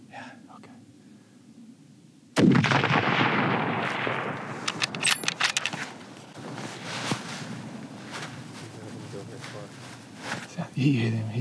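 A single loud, sharp rifle shot cracks out while hunting bear in the backcountry and rolls away in a long fading echo across open terrain, with hushed voices before and after.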